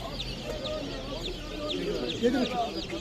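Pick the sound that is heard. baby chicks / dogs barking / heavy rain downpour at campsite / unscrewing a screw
baby chicks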